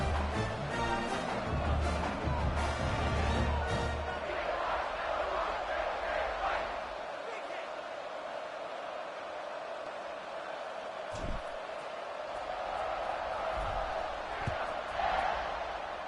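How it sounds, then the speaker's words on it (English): An American football stadium crowd buzzes after a touchdown, a broad, steady murmur with a louder low rumble at the start and occasional thumps, with a voice talking over it. "this crowd is buzzing after that last score"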